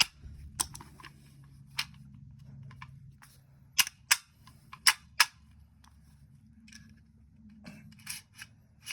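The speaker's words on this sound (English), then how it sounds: "See if we could rack this gun." A Bear Creek Arsenal side-charger rifle is racked by hand without its charging handle, producing a series of sharp, loud metallic clacks and clicks in uneven bursts against near silence.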